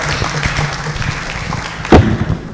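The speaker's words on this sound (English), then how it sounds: "Asante, big round of applause" At a networking conference in Mombasa, Kenya, an audience claps in a loose, moderately loud round of applause under a low room hum, with a single heavy thud near the end.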